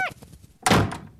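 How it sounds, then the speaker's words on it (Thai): A door being shut in a home, one solid, close thunk after a brief faint rustle. "พ่อปิดประตูเรียบร้อย"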